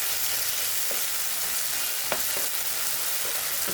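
Corned beef and okra sautéing in a pan, a steady broadband sizzle with a few sharp spatters and stirring clicks, close and continuous.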